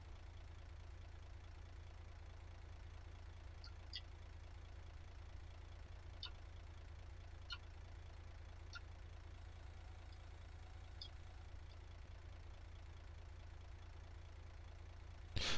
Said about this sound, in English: Can you stop the engine?